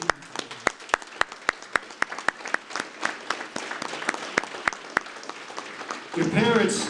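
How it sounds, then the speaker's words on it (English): Banquet audience at a football banquet applauding their parents: loud, steady rapid clapping from a large crowd, sharp claps standing out near the start, ending as cheering voices swell. "give them a great round of applause for their unwavering support"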